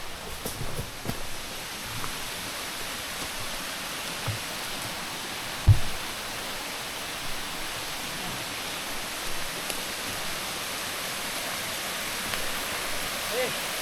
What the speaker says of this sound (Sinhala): වතුර පාරකුත් යනවා